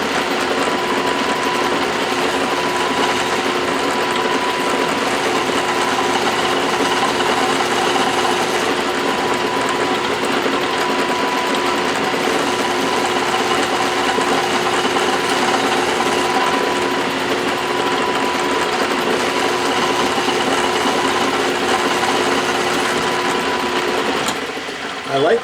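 A metal lathe takes an eighth-inch cut off the rim of a rough soft lead flywheel casting, giving a steady, loud, continuous machining whine and hum that holds evenly throughout and stops abruptly at the very end.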